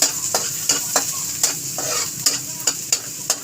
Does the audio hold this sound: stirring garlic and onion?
yes